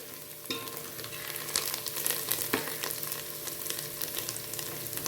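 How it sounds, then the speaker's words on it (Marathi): Onion and peanuts sautéing in a pan for bhel, a steady close sizzle with occasional scrapes and stirring knocks running throughout, no voices. "हे छान परतून घ्यायचे आपल्याला, असं मस्त परतलं पाहिजे."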